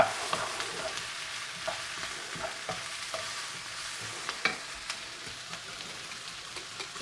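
Spam frying in a pan for curry: a steady soft sizzle with scattered light pops and occasional stirring clicks, fairly quiet and even throughout.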